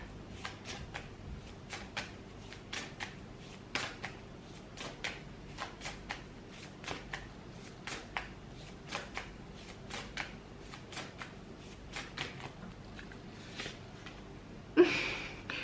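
Tarot cards shuffled and drawn, a long series of soft, rapid riffling flutters at a steady rhythm, close and quiet, ending with a brief louder slap of a card.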